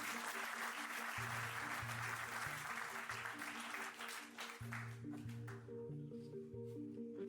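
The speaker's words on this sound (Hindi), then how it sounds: "ताली बजाइए।" Audience applause at a talk, a broad, steady clapping that fades gradually over several seconds while a low droning tone sounds underneath.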